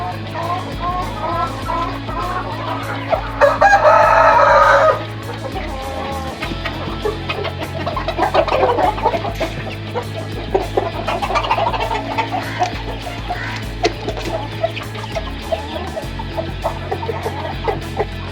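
Young Brahma rooster, about four months old, in a pen with other fancy chickens, giving one loud crow early on, followed by softer clucking and scattered background noise.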